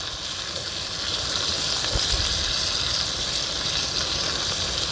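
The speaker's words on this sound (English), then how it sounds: "let's continue basting. Get that goodness all on that steak" A T-bone steak sizzling in a frying pan as it is basted, a steady, close crackling hiss with no talk over it.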